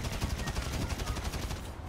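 Rapid automatic gunfire in GTA V fires as a dense, continuous burst of shots that lasts the whole moment, loud and close.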